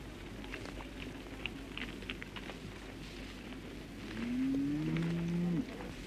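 Long-horned cattle graze on the open Barotse plains, with a single deep, drawn-out moo rising near the end over faint ambient noise and light pattering, with no voices.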